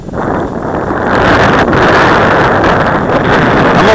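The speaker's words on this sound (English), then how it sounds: "You're flying in a 40-mile-an-hour wind." Steady, loud roaring wind in a 40-mile-an-hour gale on a glider flight, with heavy microphone buffeting that builds and holds through the clip and no clear talking.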